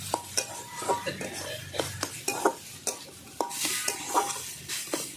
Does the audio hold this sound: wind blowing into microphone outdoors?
no